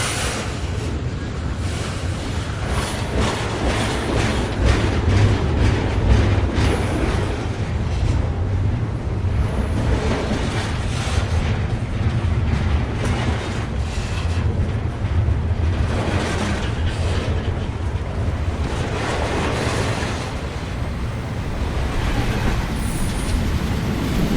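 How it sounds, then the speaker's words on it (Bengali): A long, steady rumble with rushing, windy noise runs throughout, like a train rolling heavily into a station, loud and continuous with no talking. "কিছুক্ষণ পর সম্বলপুরে যাওয়ার ট্রেন এলো স্টেশনে"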